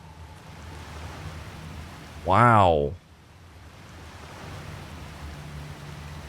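A waterfall in Oblivion Remastered rushes with a soft, steady hiss of falling water, briefly overlaid by one short spoken exclamation before the flow continues alone.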